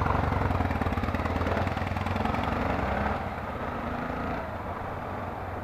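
A Harley-Davidson motorcycle engine rumbles steadily at idle nearby, a low throbbing drone that drops slightly in level partway through.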